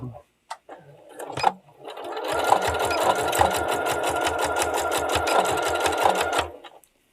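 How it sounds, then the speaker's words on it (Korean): A home sewing machine stitches a strap onto a natural-style tote bag with a fast, even mechanical chatter of needle strokes that runs for about four seconds and then stops. A few short knocks and handling sounds come before the run. "이렇게 박음질 해주시면 괜찮죠?"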